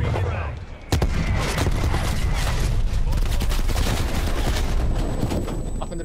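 Artillery strike in Call of Duty Black Ops Cold War on a team deathmatch map, a sharp blast followed by a dense, loud barrage of rapid explosive impacts, with voices talking over it.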